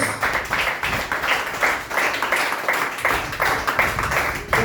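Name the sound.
church congregation applauding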